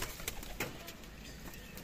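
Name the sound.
captured desi pigeon cooing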